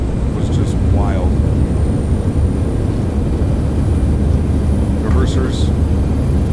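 Thrust reversers of an Aerosoft CRJ900 in Microsoft Flight Simulator deploying on landing in gusty weather, a steady low engine roar with faint chirps over it, while people talk throughout.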